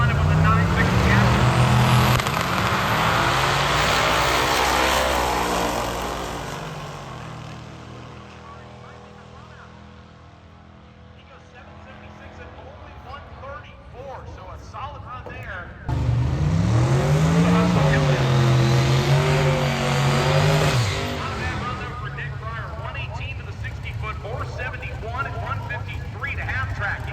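A twin-turbocharged 427 cubic inch LS-engined drag car roars loudly through a pass at a raceway, its engine note rising and surging in two long bursts, with an announcer talking over it.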